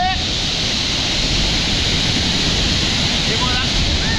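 Waterfall pouring into a canyon, a dense steady roar of rushing water heard close from beneath the falls, loud and unbroken, with faint voices barely showing through the noise.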